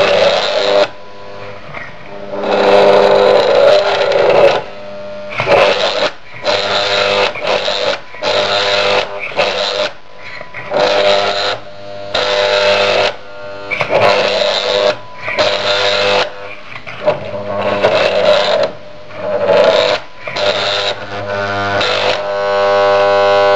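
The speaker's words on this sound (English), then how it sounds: "And now let's see what the different motors do. This motor doesn't sound good." A small printer motor whirs in repeated bursts of a few seconds each, starting and stopping with short pauses, loud and close with a buzzy, slightly rough tone and no talking.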